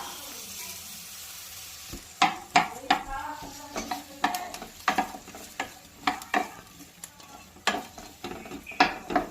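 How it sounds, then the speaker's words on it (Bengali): Onions and green chillies fry in oil in a wok, a soft background sizzle punctuated by repeated sharp scrapes and clinks of a spatula stirring against the metal, roughly every second. "এবার আমি এখানে পেঁয়াজ কাঁচা লঙ্কাগুলোকে দিয়ে দিচ্ছি, এগুলোকে আমি ভালো করে ভেজে নেবো।"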